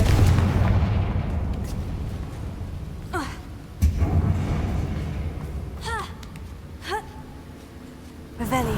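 Several booming blasts from the fire-spell Confringo in the Hogwarts Legacy video game go off one after another over a dense rumbling game soundtrack, loud and near, each bang trailing off in debris.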